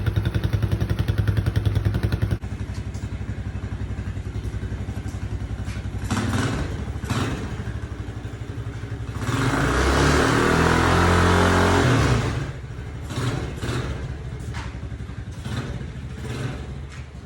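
A kids' quad engine idles steadily, then revs harder and louder for a few seconds during a short burnout before settling back to a rough, close idle. No one speaks.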